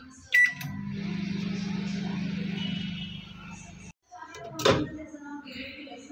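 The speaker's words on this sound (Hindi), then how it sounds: "माइक्रो का बटन दबा के हाई पावर पे टू मिनट्स के लिए लगा लेंगे" A microwave oven hums steadily on high power for a few seconds after a sharp beep while cooking dal tadka, then stops; a door clunks open shortly after.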